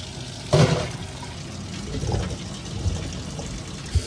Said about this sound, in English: I'm gonna put them in a pot on the other side of the sink here, and I'm gonna keep rinsing.